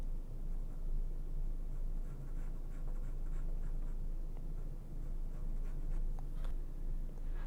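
Pencil sketching lettering on paper, a steady close scratching of graphite strokes over a constant low hum, with short repeated stroke accents throughout.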